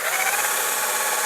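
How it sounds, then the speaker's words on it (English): A power drill bores a pilot hole into wood for a bookcase, a steady close whirring grind that holds constant for its whole short length. "let's go ahead and drill away"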